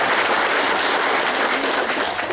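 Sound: audience applause

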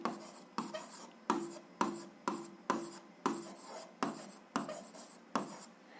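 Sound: writing on paper

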